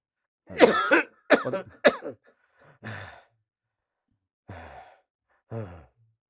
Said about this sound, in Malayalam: നല്ല ചുമയുണ്ടല്ലോ